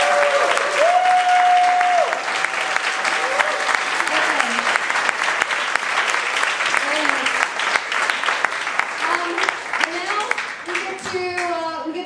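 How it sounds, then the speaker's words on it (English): A big round of applause for a dance teacher at a salsa dance finale, sustained crowd clapping throughout with cheers and a few voices heard over it. "Can we give him a big round of applause? Please?"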